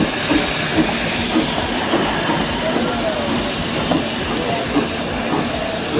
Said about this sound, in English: Such an old school style train.